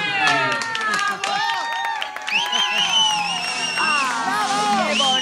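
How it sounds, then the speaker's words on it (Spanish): Studio audience on a variety show clapping, cheering and whooping loudly and continuously, with voices shouting over the crowd throughout. "¡Un aplauso!"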